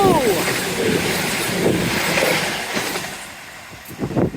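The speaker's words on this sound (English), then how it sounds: "Nearly get knocked over by a train." Train passing close by near a seawall, a loud rumbling rush with squealing wheel tones that fades toward the end.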